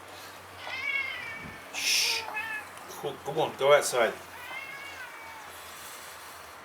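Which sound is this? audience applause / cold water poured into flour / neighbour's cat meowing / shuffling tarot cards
neighbour's cat meowing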